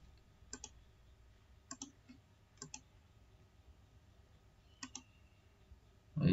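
Several crisp computer mouse clicks, single and doubled, spaced a second or so apart in a quiet room, followed by a short louder thump at the end.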